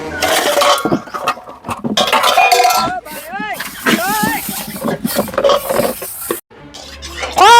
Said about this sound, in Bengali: বাসন মাজবা না?